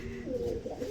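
A Potter pigeon at a pigeon farm gives a brief, low cooing call, close and fairly soft, with no voices over it.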